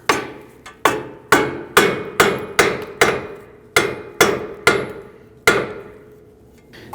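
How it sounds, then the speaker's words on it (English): Sharp metallic hammer taps on a ball joint stud of a Volvo XC60 front suspension, about a dozen evenly spaced blows with brief ringing after each, close and loud. "I'm going to go ahead and use my hammer and tap up on this."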